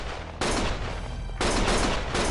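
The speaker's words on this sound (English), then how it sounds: "Stop shooting!" Gunfire in the Lost Judgment video game, loud overlapping bursts of shots in two sharp surges, the second burst heavier and nearer, with no talking over it.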